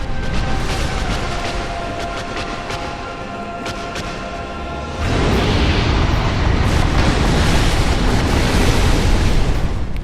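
A boss explosion in Dark Souls: a steady rumbling roar that swells into a louder, denser blast partway through and then sustains over a continuous bed of game ambience, with no talking.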